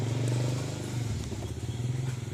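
A fuel-injected Honda Revo FI motorcycle engine runs at a steady idle close by, a low throbbing putter with faint mechanical clatter; the bike has a clutch fault causing weak power and jerky pulling under load.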